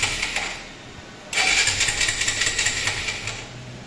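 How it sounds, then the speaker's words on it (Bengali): A 2022 Suzuki Gixxer 155 motorcycle with 4,681 km catches after a quiet cranking moment and bursts into a loud, close, rapidly pulsing idle that settles slightly toward the end. "এবার আমরা গাড়ি স্টার্ট দিয়ে গাড়ির সাউন্ডটা শুনি।"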